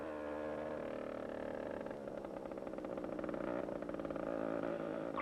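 Go-karts driving round a track, a continuous buzzing engine drone that rises and falls as the karts circuit, moderately loud with no talk.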